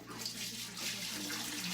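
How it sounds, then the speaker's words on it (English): Broth is poured into a hot pot, a steady close splashing rush of liquid with a faint hum underneath, quiet and continuous for a short stretch with no talk. "So I'm going to pour the broth in."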